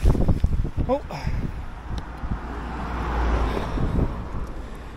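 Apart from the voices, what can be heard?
wind on a mountain ridge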